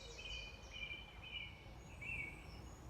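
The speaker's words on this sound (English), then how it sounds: "There's a song thrush singing on the far bank" A song thrush sings on the far bank of a pond during an evening fishing session, its faint, distant repeated phrases sitting over a low background rumble.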